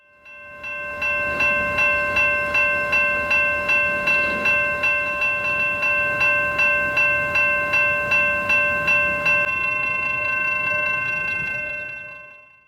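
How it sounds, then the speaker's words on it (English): Train entering a yard at a grade crossing in Houston, Texas, with a rapid, evenly spaced metallic clanging of crossing bells over a steady tonal ring, loud and close, fading at the end. "this time with a train entering a yard"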